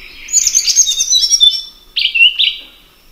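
High-pitched, soft and simple bird song recorded in Vietnam: a run of thin chirping notes for about a second and a half, then two short separate phrases, close and clear with no other sounds.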